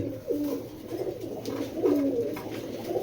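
Club racing pigeons coo in repeated soft, throaty phrases, several birds close by in a continuous, overlapping murmur with no talk.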